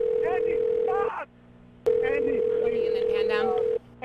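A telephone rings on a recorded 911 call about an explosion in Melvindale, with two long steady tones separated by a pause, heard under frantic pleading voices on the line.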